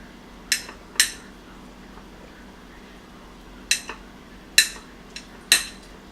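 Knife chopping rustic potatoes on a board for potato salad: a few sharp, isolated clicks of the blade hitting the board, spaced irregularly with short pauses, close and fairly quiet.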